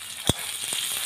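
Potatoes and flat beans frying in oil give a steady, soft sizzle, broken by one short clatter of stirring near the start and a fainter one later.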